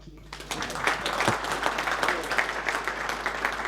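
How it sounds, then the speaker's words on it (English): Audience applause at a public event on combating human trafficking, a moderate wash of clapping that swells and holds steady throughout, with some voices mixed in underneath. "you can give her a small clap to warm us up"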